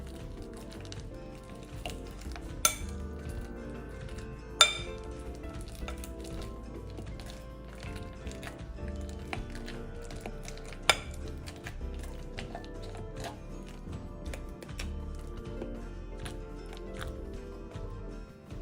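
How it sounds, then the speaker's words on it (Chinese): Peeled bananas, about 800 grams, mashed into a paste in a large mixing bowl: a long run of soft, close squishing and pressing with sporadic sharp clinks of a utensil against the bowl, no talking. "再搗成泥狀"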